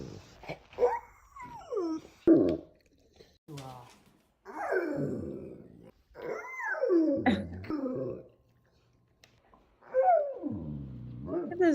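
A dog indoors at home whimpers and whines in a series of drawn-out, rising and falling vocal glides, close and fairly loud, with short gaps between them.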